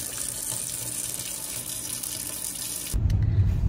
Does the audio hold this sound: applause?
no